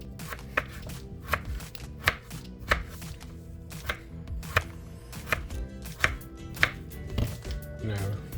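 A knife slices potatoes on a cutting board while making a Surati-style batata poha, with sharp, evenly spaced chopping knocks about every half second against a low background hum.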